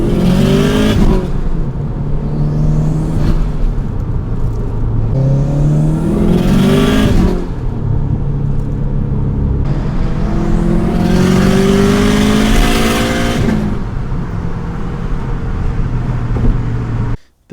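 Tuned Subaru engine revving and accelerating hard, close and loud, in repeated surging pulls with rising pitch and brief drops between gear changes, no talk.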